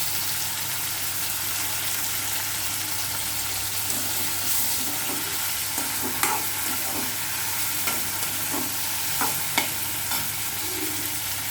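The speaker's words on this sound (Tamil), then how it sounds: "தக்காளியை போட்டுக்கலாம் தக்காளி வதங்குறதுக்கு கொஞ்சம் உப்பு போட்டுக்கலாம்" Tomatoes with salt sauté in a pan for veg biryani, giving a steady close sizzle broken by intermittent scraping stirs of the spoon, with no talking.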